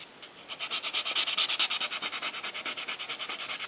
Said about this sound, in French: on passe le bloc blanc.